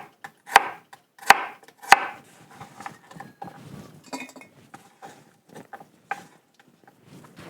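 A knife chops garden garlic cloves on a cutting board in sharp, irregular strikes, a few loud hits up front followed by quicker, softer taps, with occasional light clinks.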